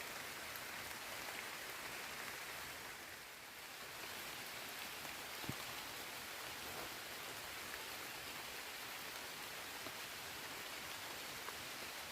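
Rain falls steadily in a deep forest during the rainy season. It makes a soft, even hiss of drops on leaves and ground, faint and continuous, with a few sharper drips and no voices.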